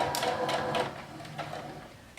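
A sewing machine stitches a fabric casing close to a folded edge, a steady close mechanical whir running through the clip with rhythmic needle ticks, easing slightly toward the end.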